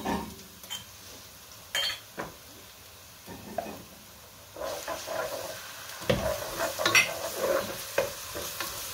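Tomato paste sizzles softly in a pan with chopped onions while a utensil stirs and scrapes against it, with occasional clinks; fairly quiet and close.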